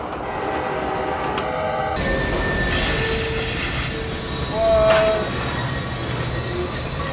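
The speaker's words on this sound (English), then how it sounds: "Those trains have so much momentum, it's nearly impossible for them to just stop." A train rumbles past close by, wheels squealing against the rails in long metallic tones, with a steady heavy roll throughout.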